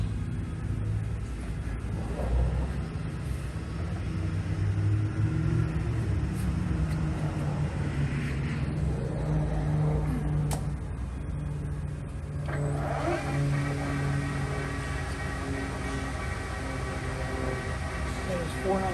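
Milltronics ML-17 17-inch by 40-inch CNC lathe from 2001, spindle running in high range: a steady mechanical hum with constant tonal whine, a pitch change partway through, and a voice talking over it at times.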